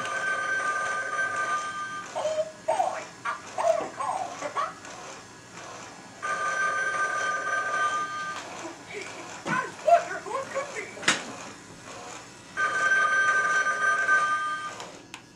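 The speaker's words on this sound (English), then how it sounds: "another Disney item, which is a Mickey Mouse phone. I'll demo this one for you also." A Mickey Mouse novelty telephone rings in three long bursts of electronic trilling, close and loud, with softer sounds and brief clicks between the rings.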